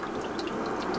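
Cold water running steadily from a tap, a close, even splashing stream with no voices.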